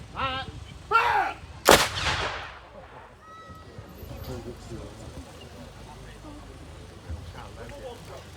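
Field artillery gun at a War Wheels military vehicle event at a railway site, firing one heavy blast that rolls away into the distance. Voices shout before it, and crowd murmur follows.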